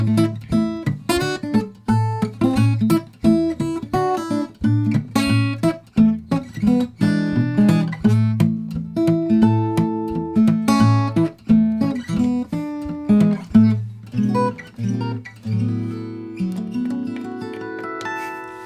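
Fingerstyle guitar plays the ending of a song, a steady run of plucked chords and bass notes that closes on a few sliding sixth-nine chords and a ringing final strum, played alone and close.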